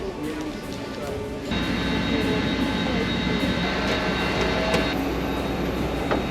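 Airliner cabin noise with engine roar, a steady broadband rumble that steps up louder partway through and holds constant, with people talking over it.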